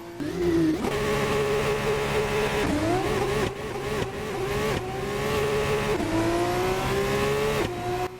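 Race car engine in a racing game revving hard for a practice start, a loud, bright, harmonic whine climbing and dropping in repeated pulls as gears shift, alone and close.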